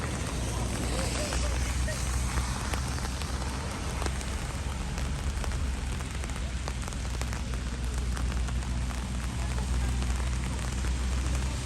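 Steady, dense rain falling on surfaces in the mountains, a continuous close hiss with low rumble, unchanging throughout.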